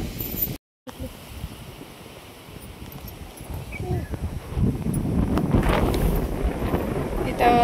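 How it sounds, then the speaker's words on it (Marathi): Wind gusts outdoors at a roadside anthill worship site, buffeting the microphone in rough rumbles that build louder toward the end, with people talking faintly. "वारं सुटले बोले."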